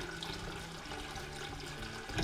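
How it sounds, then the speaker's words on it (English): Glass beer bottles are rinsed in sanitizer water while bottling a white IPA, giving a steady, continuous run of splashing and flowing water at moderate level with no talk. "give them all a rinse in sanitizer"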